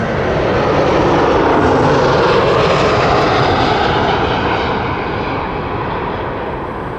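A Jetlines jet aircraft at Toronto Pearson airport roars loud and close, a steady broadband engine rumble that fades slightly toward the end, with no voices over it.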